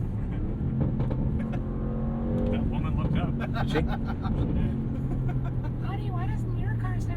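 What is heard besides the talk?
Bentley Bentayga Speed twin turbo V8 exhaust burbles and revving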